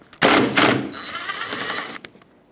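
A power tool spins out a T30 bolt holding the rear bumper cover on a 2006-2011 Honda Civic, one loud, close burst of rapid rattling lasting under two seconds, then quiet.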